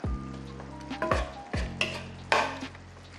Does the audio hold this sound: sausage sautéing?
yes